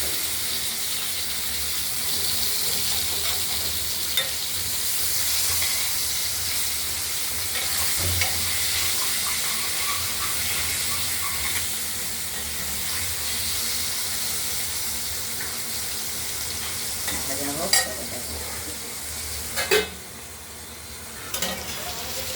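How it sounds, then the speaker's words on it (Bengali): Bay leaf, dried chillies, cumin and black cumin crackle in hot oil with potato pieces added, a continuous loud sizzle lasting throughout, punctuated by a few sharp clicks and clinks near the end. "গরম তেল তো গরম তেলে মশলা ভাজা হয়ে যায়"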